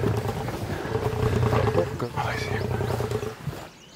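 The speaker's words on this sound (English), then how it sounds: "And we just hear this huge roar." A lion roars on a Kalahari hunt, a deep, rumbling roar lasting several seconds, fairly close and loud, then fading into quiet.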